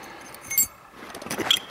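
A set of keys for a deadbolt and doorknob lock jangles and clinks in short metallic bursts, a brighter clatter near the start and a busier rattle toward the end, fairly quiet and close with no talking.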